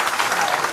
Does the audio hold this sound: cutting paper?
no